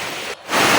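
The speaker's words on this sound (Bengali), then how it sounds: "অনেক জোরে বৃষ্টি হইতেছে" Heavy rain pours down in a steady, loud hiss of broadband noise, briefly dipping for a moment before surging back even stronger.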